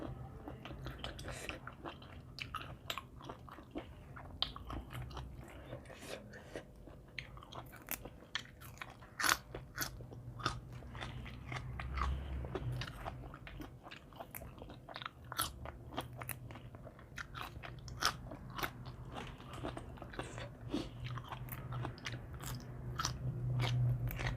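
Chewing crunchy food, a meal of Thai rice noodles with curry sauce and spicy tako squid, heard as close, continuous crisp bites and crunches in a steady rhythm.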